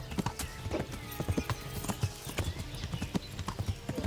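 Steady clopping of a horse's hooves in Kingdom Come: Deliverance, an even trotting beat heard up close, with a brief neigh and a little low talk underneath.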